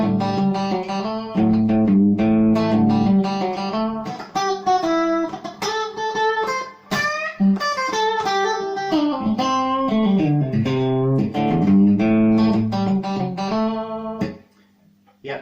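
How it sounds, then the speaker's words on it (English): Clean Fender Stratocaster electric guitar with a little reverb playing a palm-muted, grooving rhythm part, loud and close, continuous chords for about fourteen seconds before ringing out. "clean guitar, a little bit of reverb, palm mutes, get into that groove"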